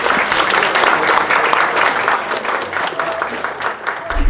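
Wedding guests holding invitations give warm applause during a group photo session, a loud, dense wash of many hands clapping steadily throughout with a few voices mixed in.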